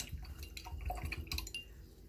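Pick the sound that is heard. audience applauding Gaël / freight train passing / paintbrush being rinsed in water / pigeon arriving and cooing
paintbrush being rinsed in water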